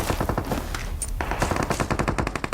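Rapid automatic gunfire in the mobile battle royale game BGMI, loud bursts of closely spaced shots in quick rhythmic volleys with a brief pause near the middle.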